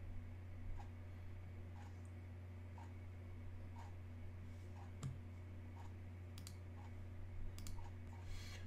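Mouse clicks while launching Xcode on an Apple Mac, a few faint, sparse clicks spread over a low steady hum.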